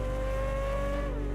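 A brand-new naturally aspirated flat-plane V8 built purposely for the 2023 Chevrolet Corvette Z06 runs at a steady, loud, close idle or hold with a strong, even harmonic note and no voices.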